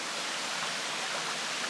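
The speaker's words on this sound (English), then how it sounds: "From what I could hear, we're close to the waterfall." Limestone waterfall at Turure Watersteps (Cumaca Falls) in Trinidad, heard from a short distance on a hiking trail: a steady, soft, even rushing hiss of falling water with no voices.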